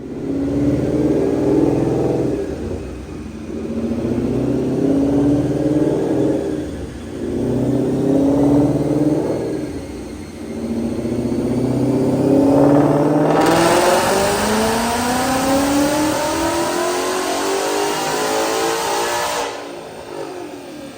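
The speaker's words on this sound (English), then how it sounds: "let's check out that dyno pull" Supercharged 2013 Ford Mustang Roush RS3 with a manual gearbox, running on E85 at 9.5 psi, revs hard on a chassis dyno: loud, close engine rising through repeated gear pulls, then a sustained high-rpm wail before cutting off.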